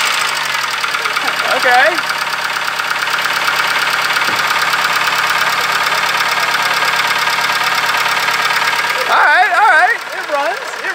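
A rebuilt Toyota Camry engine runs with a loud, steady mechanical knock and rattle that continues throughout, while people talk briefly over it near the start and again toward the end.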